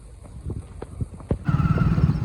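A mare neighs and whinnies close by on a village hillside in rainy weather, opening with a run of rhythmic hoof clops and then swelling into a louder, fuller stretch of sound.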